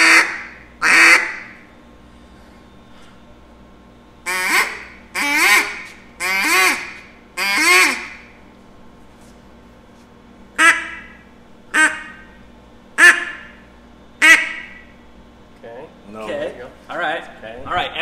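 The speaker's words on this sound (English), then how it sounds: "We'll just do a basic quack, just like we ran over earlier." A duck call blown in basic quack sequences, loud and close: clustered runs of three to five nasal quacks early on, then single sharp quacks spaced about a second apart, with brief pauses between groups.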